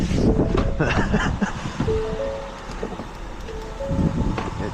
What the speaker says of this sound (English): In case you couldn't tell, it's a little windy today.